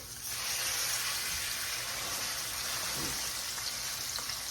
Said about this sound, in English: So you heard that sizzle going in.